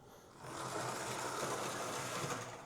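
The motor of a Hornby Class A4 Mallard model locomotive runs with a steady high-pitched whining buzz, close and continuous, rising in level after a brief quiet start.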